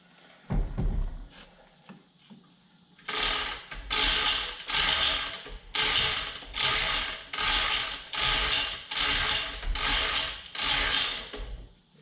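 A homemade spanner tool tightening down a hydraulic cylinder on a backhoe, about ten loud, evenly spaced metallic ratcheting strokes in a steady rhythm, preceded by a few scattered clanks.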